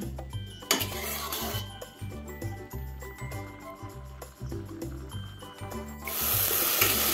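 Spice paste mixed with ground poppy seed and cashew paste, sautéed in a pan for a soya bean gravy, giving a soft steady sizzle with occasional stirring scrapes and clinks of utensils, no talking.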